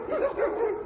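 Street dogs in Tekirdağ reacting to a clarinet player on the street: a short burst of several yipping, whining barks in quick succession, close and fairly loud, with no talk.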